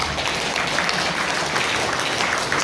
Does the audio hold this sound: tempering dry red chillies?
no